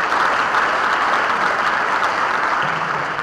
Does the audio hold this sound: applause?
yes